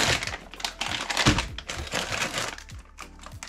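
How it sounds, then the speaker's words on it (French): A parcel from a hobby shop is unpacked close up, dense crinkling and crackling of packaging with small knocks and thuds throughout. "Donc on va tout déballer."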